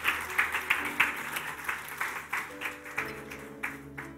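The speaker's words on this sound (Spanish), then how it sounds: "Si le dan un aplauso al Señor, déselo fuerte." A church congregation applauds the Lord during a sermon. The clapping is soft and rhythmic, a steady beat of claps over sustained keyboard or organ tones, fairly distant and quiet.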